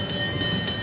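A kiddie ride train at an SM mall runs nearby, giving a steady rolling rumble with a faint high whine and three soft rhythmic pulses, with no talk over it.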